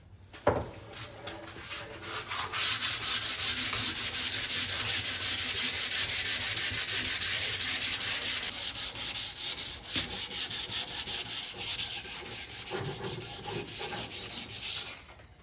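Steady, close scratchy rubbing of sandpaper by hand on a wooden axe handle, continuous strokes for several seconds with a brief pause and resumption.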